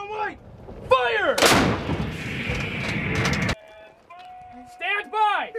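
An M777 155mm howitzer fires a single thunderous, close boom that rolls and rumbles for about two seconds. Shouted commands from the gun crew come just before and after the shot.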